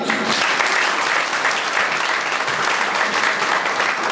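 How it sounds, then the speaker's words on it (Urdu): Audience applause welcoming the cricket board president onto the stage at a Pakistan–Norway forum in Oslo; a sustained, even wash of many hands clapping, loud and unbroken. "تشریف لاتے ہیں آپ لوگوں کی تالیوں میں"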